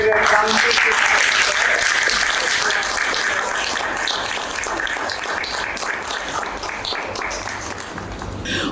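Loud, steady applause from a crowd at a drama festival fills the room, then gradually thins and softens toward the end.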